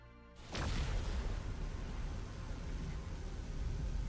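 A charging energy blast attack in the Arknights video game erupts suddenly and stays as a loud, sustained roaring rush of noise after a brief quiet start.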